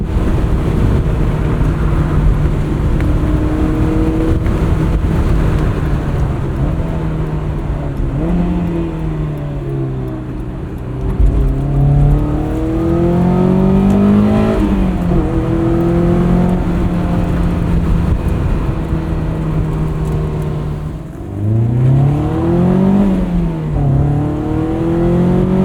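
The engine of a Honda S2000 (AP1) roadster on coilovers drones loudly from inside the car while driving. Revs climb and drop through several gear changes in rising sweeps, with no voices.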